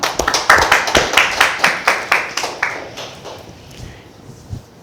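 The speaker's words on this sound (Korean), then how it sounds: "하나님께 영광의 박수" A church congregation at a Sunday worship service claps in unison to give glory to God, loud, rhythmic, evenly spaced claps that fade away into quiet after about three seconds.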